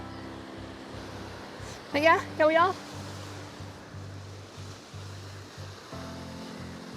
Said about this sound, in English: You can see there's there's waves going up and over it, so I can't really get on.